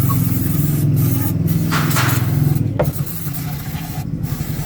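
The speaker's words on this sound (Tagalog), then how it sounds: "Talagang uubusin ko to dyan pang spray na to" During heavy maintenance on a Mitsubishi Mirage, cleaner is sprayed in several sharp hissing bursts of varying length, close and loud over a steady low engine hum.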